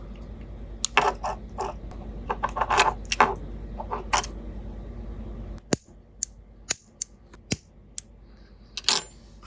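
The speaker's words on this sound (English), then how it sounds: "So yeah, just simply clicking this" A lighter's piezo igniter, separated from its fuel part, gives a series of sharp, isolated clicks, close and crisp against a quiet background after some earlier handling noise.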